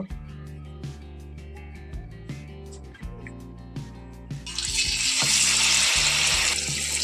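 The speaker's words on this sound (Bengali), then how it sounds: "আমি তেলের মধ্যে এখন এইভাবে ছেড়ে দেব" Cauliflower chops are slid into hot oil after a run of tapping and clinking, and a loud, dense frying sizzle rises and holds for the last few seconds.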